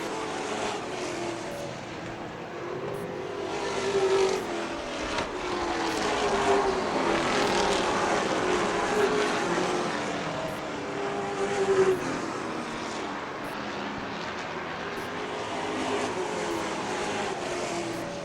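Late model stock race cars circle a track, their engines droning and swelling in waves as the pack passes, loud and continuous at mid-distance with a faint commentator's voice underneath.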